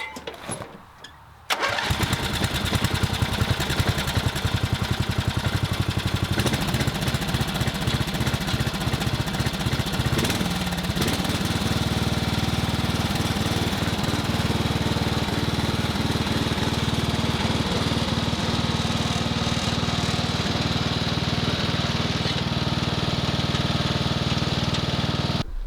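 A Craftsman lawn tractor mower with a Briggs engine cranks and fires after a brief quiet start, then settles into a loud, steady running drone that holds without a break, with a slight change in pitch partway through.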